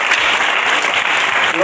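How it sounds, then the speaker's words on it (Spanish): A church congregation breaks into loud, dense applause, many hands clapping together in a brief, continuous burst. "Denle ese aplauso al Señor ahora sí"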